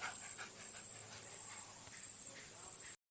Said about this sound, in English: This is my dog, Baby. She's over 11 years old